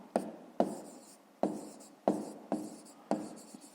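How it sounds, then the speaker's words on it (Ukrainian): A pen writing out the answer to a fifth-grade math exercise, six distinct close scratchy strokes at an uneven rhythm, each starting with a tap on the paper, in an otherwise quiet room. "записуємо відповідь"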